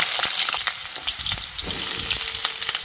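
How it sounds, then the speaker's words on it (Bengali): Cut potatoes frying in hot mustard oil, a steady loud sizzle with crackling pops and a few stirring scrapes throughout, no voice. "এখন এই গরম তেলের মধ্যে কেটে রাখা আলুগুলো দিয়ে দিচ্ছি।"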